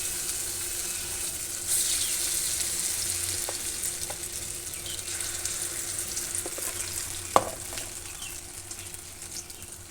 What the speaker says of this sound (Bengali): উল্টে পাল্টে আমি লাল করে বড়াগুলো ভেজে নেব